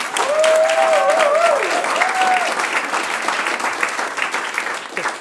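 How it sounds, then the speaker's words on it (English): Steady applause from a crowd fills the room, dense clapping throughout, with a voice briefly heard over it at the start. "How about a round of applause?"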